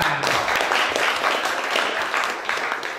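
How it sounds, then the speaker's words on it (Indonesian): Steady crowd applause fills the whole stretch, dense and even, with a faint low tone early on. "tepuk tangan."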